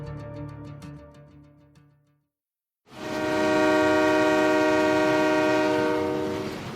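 Samudra Devi train on the Colombo to Matara coastal route in Sri Lanka: a loud, sustained horn-like blare that fades to a short silence, then a powerful steady rumble and tone return and hold, with no talking.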